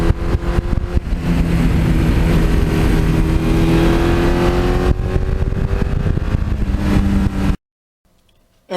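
A 1982 Suzuki GS1100E motorcycle revs hard through the gears, its engine note climbing steadily in pitch, dropping briefly at a shift and rising again, loud and close, before cutting to near silence at the end.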